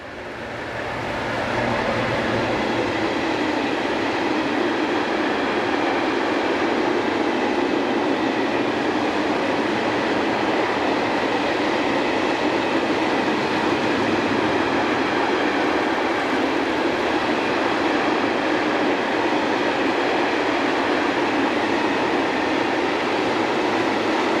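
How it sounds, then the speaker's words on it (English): An electric locomotive hauling a loaded coal freight train along a German main line, a continuous loud rumble and roar of wheels and wagons passing close by for the whole stretch. "hauls a trainload of coal from Poland"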